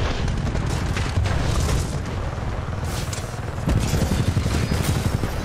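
Heavy gunfire and booming blasts in a Titanfall 2 multiplayer fight, a loud continuous barrage with surging bursts and no clear pauses.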